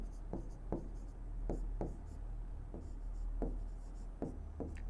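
Pen strokes on paper while writing out an algebra arithmetic progression problem, a series of short scratchy marks at an irregular pace, close and fairly quiet.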